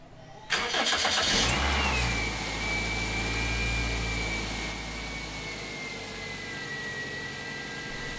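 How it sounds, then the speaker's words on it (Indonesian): The engine of a Toyota Corolla Altis, undergoing air-conditioning service, cranks and catches abruptly, then settles into a steady idle with a faint high whine from the running air-conditioning compressor. It is close and continuous, with no talk. "setelah itu hidupkan mesinnya supaya kompresor bekerja"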